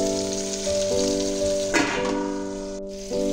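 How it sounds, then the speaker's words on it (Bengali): Potatoes and sweet potatoes frying together in oil for a Bengali shukto, a steady close crackling sizzle with sustained tonal hum from the kitchen running underneath and a brief louder burst midway. "ওই তেলে আলু আর মিষ্টি আলুটা একসাথে ভেজে নিচ্ছি।"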